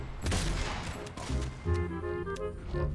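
Shotgun blasts fired at clay targets outdoors, a couple of loud broadband booms in quick succession with echoing decay.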